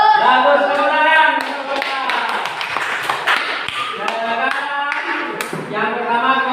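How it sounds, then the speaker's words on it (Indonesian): A sixth-grade classroom claps for a student group: quick, uneven hand claps and taps that continue steadily, with children's voices talking and calling over them throughout. "Gimana penampilan dari kelompok A? Bagus, tepuk tangan."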